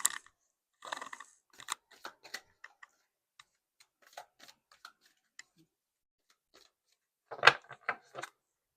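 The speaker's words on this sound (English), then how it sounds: "Lots of shuffling during these." A deck of playing cards being shuffled and handled in scattered bursts of quick, crisp riffles and taps, faint and close, with quiet gaps between them and no talking.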